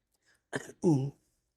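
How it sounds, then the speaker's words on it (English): Two short, muffled coughing bursts close by, the second fuller and more forceful, with quiet before and after. "Fighting back a cough again"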